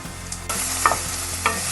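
Carrot and small capsicum pieces frying in a pan for Indian-style pasta are stirred, with a steady sizzle under a low hum and clattering scrapes of the spoon, two sharper knocks standing out near the middle and end.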